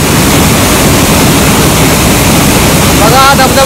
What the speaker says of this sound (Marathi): बघा धबधबा कसा निसर्गरम्य वातावरणामध्ये आहे